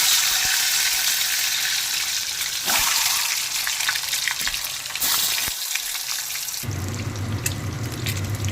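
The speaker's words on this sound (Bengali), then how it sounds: "এবার আমি ডিমটাকে হালকা হাতে ভেজে নেব" An egg fries in hot oil in a pan for an egg curry, giving a loud, continuous crackling sizzle that shifts in tone near the end, with no talking.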